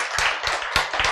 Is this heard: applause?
yes